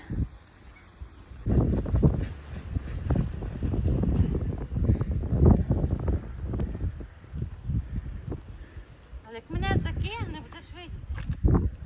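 Wind gusts rumble against the microphone in uneven bursts, with people talking intermittently throughout.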